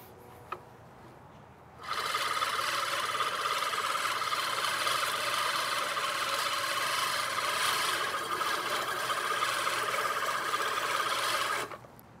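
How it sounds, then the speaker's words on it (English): A cheap lawn mower bought from Amazon cutting a backyard lawn starts up after a quiet moment, then runs as a steady, loud, raspy whirring drone for about ten seconds before cutting off. "So I'm gonna go ahead and mow probably half of the backyard."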